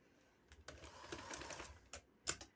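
A sewing machine stitches a trouser in short bursts: a quiet, close mechanical whirr runs for about a second, then brief separate stitch runs follow, with no talking.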